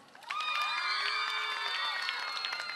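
A studio audience applauds and cheers for a contestant in a 2009 Bulgarian TV dance-off, with steady clapping, shouts and whoops rising quickly and holding loud to the end.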